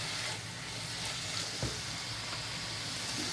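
Minced beef frying in a pan for Jamaican beef patties, a steady crackling sizzle with one soft scrape partway through.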